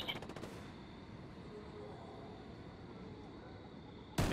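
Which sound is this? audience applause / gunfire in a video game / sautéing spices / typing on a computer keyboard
gunfire in a video game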